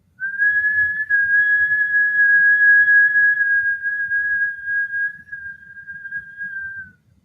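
A single steady whistling tone, like air drawn through pursed lips, holds for about seven seconds before fading out.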